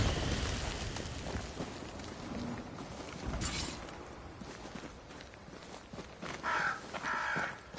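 Crows caw in a few short bursts near the end over a busy game soundscape of footsteps and ambient noise in Banishers: Ghost of New Eden, with no talking.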